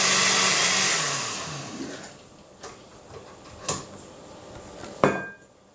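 A blender whirs loudly for about two seconds blending cream of broccoli and cauliflower soup, then winds down, followed by a few clunks and clatters of kitchen containers.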